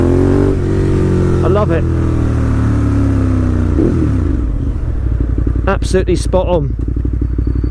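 A 2018 Ducati Monster 1200S revs loudly through its exhaust, deep engine roar swelling and dropping with sharp throttle blips near the end, while someone speaks over it.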